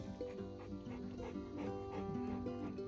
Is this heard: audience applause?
no